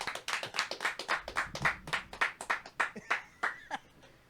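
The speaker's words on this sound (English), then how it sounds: "a round of applause" A small audience claps in a steady rhythm of about fifteen distinct, close hand claps, like a brief round of applause in a small room, with a faint chuckle underneath.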